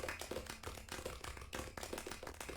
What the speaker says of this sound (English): I want to give Charlie and a big round of applause